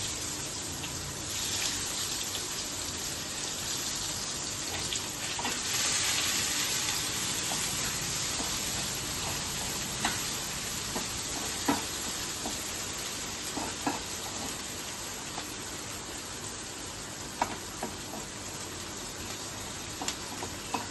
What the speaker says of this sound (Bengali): এই তেলের মধ্যেই একটু কালো জিরে ফোড়ন দিয়ে দেবো, একটু পেঁয়াজ কুচি